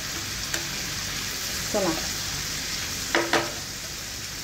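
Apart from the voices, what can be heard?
prawns frying on a tawa with capsicum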